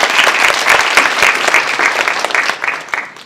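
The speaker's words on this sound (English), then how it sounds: "So I also want to give all the women in here another round of applause to start." Close, lively applause from a room of women at a startup and entrepreneur night, strong and sustained before tapering slightly toward the end.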